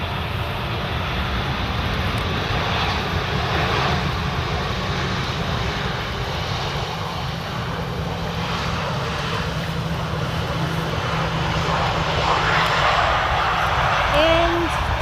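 An Airbus A380 airliner arriving from Bristol at Amsterdam Schiphol on the Polderbaan gives a continuous, fairly loud broadband engine roar and rumble at some distance, with a voice talking over it.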